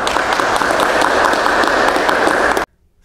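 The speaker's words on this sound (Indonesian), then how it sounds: "tepuk tangan untuk mereka berempat" An audience claps for four speakers at a Ramadan health talk, a loud dense burst of applause that holds steady for over two seconds and then cuts off abruptly into near silence.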